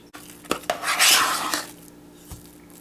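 A utensil clinks and scrapes against a bowl while mashed potatoes are mixed with cream cheese and milk: a few sharp taps, then a second of wet mixing, then a final knock, heard close and alone.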